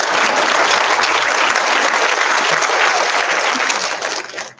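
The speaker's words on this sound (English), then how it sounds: "Can we get a round of applause for the environment," Sustained applause from a large crowd, dense and steady clapping throughout before it tapers off at the very end.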